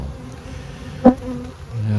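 Steady low insect buzzing of honey bees close by at a hive, with one brief louder buzz as a bee passes near, continuing without any talk.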